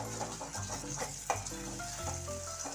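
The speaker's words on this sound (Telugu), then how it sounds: "మనం దగ్గరుండి కలుపుకుంటూ ఉండాలి. అలా కలుపుకుంటూ ఉంటేనే కింద అడుగంటకుండా చక్కగా వస్తుంది." Ginger garlic paste sizzles and fries in hot oil for a chicken curry while a spoon stirs it in a pan, with steady frying hiss and a few scraping stirs, close and without talk.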